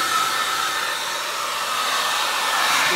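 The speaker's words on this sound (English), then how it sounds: "now hitting it with the hair dryer" A hair dryer blows with a steady, loud airy roar, drying a gate opener arm under repair, running continuously without a break.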